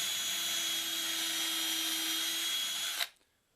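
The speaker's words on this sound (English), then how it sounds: "the drill bit's all sharpened, and we're going to test it out in this piece of oak here" A freshly sharpened drill bit bores into a piece of oak, a loud steady high-pitched whine with grinding cut that runs unbroken for about three seconds and then stops abruptly, leaving near silence.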